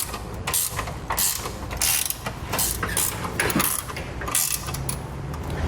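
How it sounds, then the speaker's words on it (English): Wrench snugging down bolts on a Curt trailer hitch receiver on a 2013 Jeep Wrangler, a close series of ratcheting clicks and metallic scrapes in uneven bursts. "Now with all of our hardware in place and hand tight, we can snug it all down."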